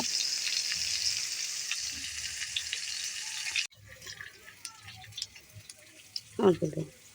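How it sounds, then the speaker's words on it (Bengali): Potatoes fry in a pan with a loud, even sizzle that cuts off abruptly partway through, followed by quieter clatter and a few faint voices near the end. "আলুটাকে ভালো করে লাল লাল করে সুন্দর করে ভেজে নেব"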